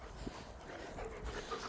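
A dog panting softly in quick, breathy rhythm, faint and close, with a slight whimpering edge and no talking.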